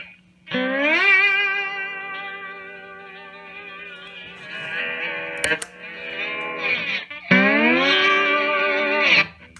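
Sustained electric guitar notes played through a compressor pedal ring out smooth and even, cut off briefly in the middle before another long held chord with a slide.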